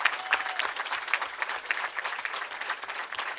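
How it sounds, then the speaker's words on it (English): An audience at a youth bowling championship awards ceremony breaks into steady applause, with a dense patter of clapping hands that carries on throughout. "Everybody, please give this gentleman a round of applause."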